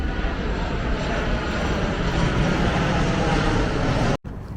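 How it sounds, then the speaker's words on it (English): Aircraft engine roar from airplanes passing overhead in Lake Nona, Orlando, a steady loud broadband drone filling the whole stretch before cutting off abruptly near the end. "we are also watching all the planes fly by"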